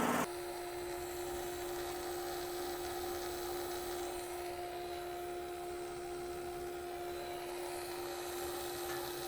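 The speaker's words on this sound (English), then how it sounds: "I'll run it in a second so you can hear the fuel pump." A fuel pump runs on a Powerease R740D generator that has fuel problems, giving a steady, continuous electric whine and hum with no pauses or speech.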